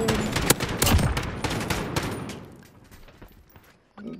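Rapid bursts of automatic gunfire from the video game Call of Duty: Modern Warfare crackle loudly, then thin out into scattered, fainter shots, with one more shot near the end.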